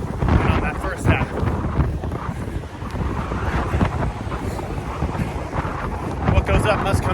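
Wind buffeting the microphone during an outdoor run, a steady rumbling roar with gusty bursts throughout, with a voice talking underneath.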